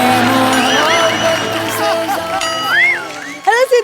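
A studio audience on a Hindi comedy talk show whoops and cheers for an actress's entrance, with shouts rising over loud, tonal background music and a burst of cheering near the end.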